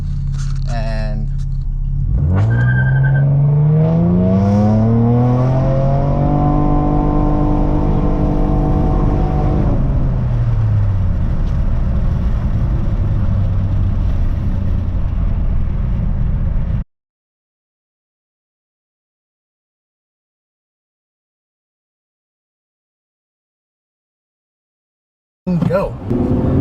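Tuned seventh-generation Nissan Maxima accelerating hard from a standstill to 60, the engine note rising and falling through the gears under loud interior roar for about seventeen seconds, then abrupt silence before a brief burst of sound returns.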